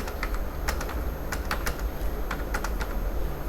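Steady, brisk typing on a computer keyboard during a basic typing practice session, with rapid irregular key clicks close up and no voices.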